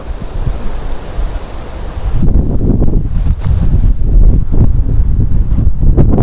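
Strong wind buffeting a microphone across an open field, a loud continuous roar that grows heavier and gustier partway through, with no voices.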